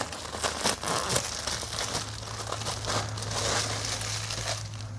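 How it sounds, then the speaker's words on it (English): Plastic wrapping is peeled off a replacement engine air filter for a 2.5L Toyota Camry. The crinkling is steady, close and fairly loud, with a low constant hum underneath and no talk. "Take the plastic off."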